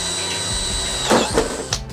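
A power drill fitted with a bit from an Action accessory set runs with a steady whirring hum, then bores through material with a few brief grinding bursts near the end, close up with no talk.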